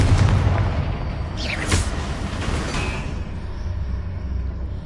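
Confringo explosion spell from Hogwarts Legacy, a loud booming blast with a brief whooshing burst, set against dense continuous rumbling game background noise.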